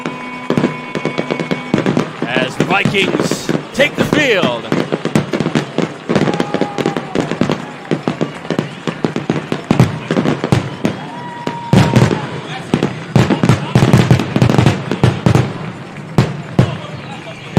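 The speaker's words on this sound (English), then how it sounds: "The firework display" Rapid, loud fireworks crackle and boom nonstop at a Friday night high school football game, Portage at Valparaiso, with dense popping bursts over crowd noise while an announcer speaks over the PA.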